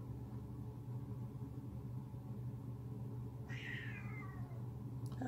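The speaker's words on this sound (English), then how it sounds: "Oh, you hear my cat?" A house cat gives a single drawn-out meow partway through, heard over a steady low hum with no one talking.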